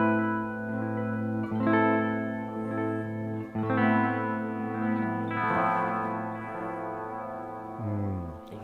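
Guitar run through a tremolo into a Strymon Volante echo pedal, pulsing sustained chords that swell in and out with stacked repeating echoes and a washy, floating tail, no voices.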